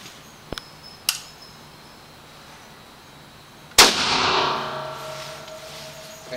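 A single loud SKS rifle shot cracks sharply and rings off into a long echoing tail, preceded by two faint metallic clicks.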